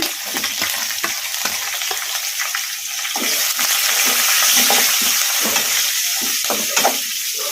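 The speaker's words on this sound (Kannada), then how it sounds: "ಇವನ್ನೆಲ್ಲ ಮೀಡಿಯಮ್ ಫ್ಲೇಮಲ್ಲಿ ಫ್ರೈ ಮಾಡ್ಕೋಬೇಕು" Green and dried chillies, curry leaves and onion fry with ajwain in hot oil on a medium flame, a loud, close, continuous sizzle with frequent spatula stirs and scrapes and no talking.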